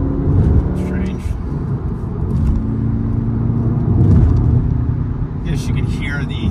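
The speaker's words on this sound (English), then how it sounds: "Yes, you can hear the exhaust tone." A 2016 Volkswagen Golf R's engine and exhaust rumble steadily close by, with a person talking over it.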